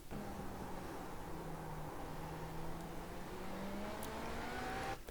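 IMSA GTP prototype race car in iRacing at Imola, engine droning steadily through a corner with rising pitch on exit, continuous and close, no talk.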